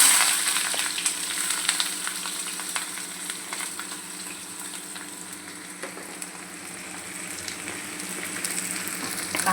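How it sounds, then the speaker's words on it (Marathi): Onions frying in oil for prawn masala, a dense crackling sizzle with intermittent stirring scrapes, close and steady throughout, no speech. "कांदा चांगला आपण फ्राय करूया व्यवस्थित"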